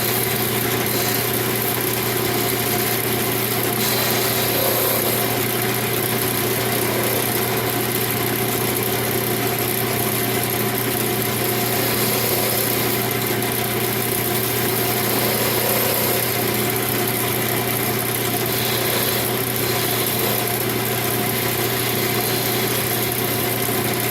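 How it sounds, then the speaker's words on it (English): A wood lathe spins steadily while a detail gouge shapes a magic wand, giving a loud continuous motor drone with steady hum and broadband hiss throughout, no voices present. "Switch to a smaller detail gouge and kind of roll it."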